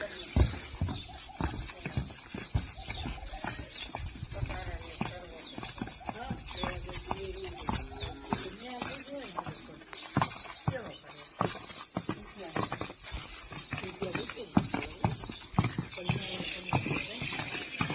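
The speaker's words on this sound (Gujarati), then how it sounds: "તો જો આપણા ખાટલા માથે ઘોડી રમે છે." A decorated mare adorned with zari embroidery dances on a cot, its hooves beating a quick, steady clip-clop close by, with people talking over it throughout.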